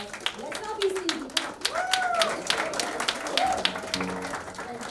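An audience at a summit event claps in scattered bursts over about five seconds, with a voice talking through it.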